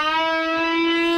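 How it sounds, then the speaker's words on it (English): A tubing effect, made by a very short delay time under high feedback in a mixing setup, produces a steady, buzzy, hollow pitched tone rich in evenly spaced overtones, sustained and fairly loud. "If you set the delay time for less than 30 milliseconds and crank up the feedback, you get an effect called tubing."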